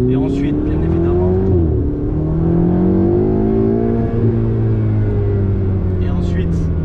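Ferrari 488 GTB, 670 hp, revving loudly in Dubai, a close, continuous engine roar with rising and falling pitch sweeps as the revs climb and ease off, the engine dominating throughout.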